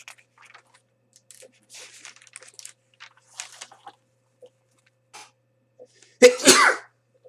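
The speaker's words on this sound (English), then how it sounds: "I have to sneeze." A single loud sneeze bursts out near the end, after stretches of quiet with faint scattered clicks and rustles.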